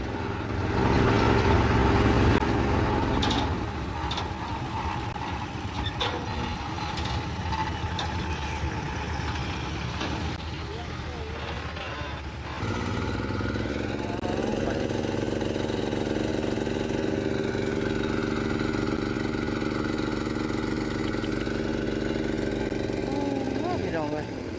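A boat motor hums steadily at mid pitch as the boat comes in to land during a Lao wedding outing, with voices and background chatter over it throughout.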